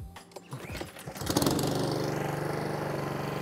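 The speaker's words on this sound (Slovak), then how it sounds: "Ako vidíte, motor nám beží" A Honda HRN 536 VY lawn mower engine is pulled over and starts, then settles into a loud, close, steady running drone with an even rhythmic pulse, no talking.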